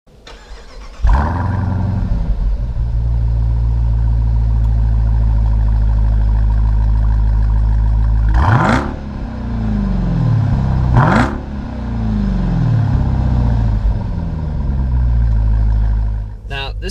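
A Jeep Grand Cherokee Trackhawk engine starts loud and close, then holds a strong steady drone while driving, with two sharp rev surges partway through as it accelerates.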